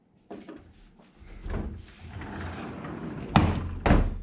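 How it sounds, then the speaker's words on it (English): Hotel room safe door in a resort room in Cozumel, opened and shut with several close clunks and thuds, the loudest near the end, and no talk. "Got your safe in here."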